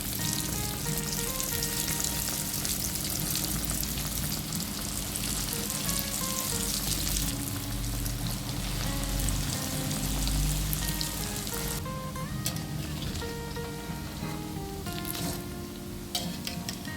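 Steady crackling sizzle of potato and carrot risoles deep frying in hot oil, continuous and close, with no talking.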